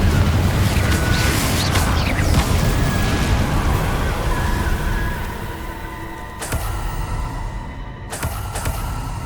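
A Confringo fire-blast spell from Hogwarts Legacy bursts with a loud, dense roar that fades over several seconds, followed by a few sharp crackling pops.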